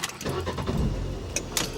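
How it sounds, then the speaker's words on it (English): A 2018 Fiat 500 Sport (68 plate) starts up in cold weather, a brief crank catching into a loud, steady low idle with some clicks and rattles near the end. "I'm gonna have to turn the engine on"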